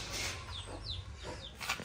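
A mother hen clucks close by near her chicks, with thin chick peeps rising over a low steady background.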